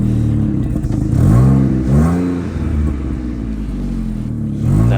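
A Morgan Super 3 starts on a very cold morning of minus six degrees, with loud revving bursts that climb sharply in pitch a few times over a deep, rumbling idle.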